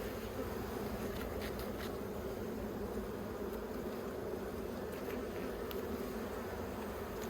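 Honey bees buzz steadily and close around an open hive affected by American foul brood, a dense, continuous hum with no voices over it.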